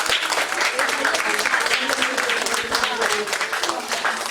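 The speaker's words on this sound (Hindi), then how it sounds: "ताली बजती रहनी चाहिए।" Audience applause fills a certificate distribution ceremony held with a bridal makeup event, a dense, steady wash of clapping throughout with crowd voices mixed in.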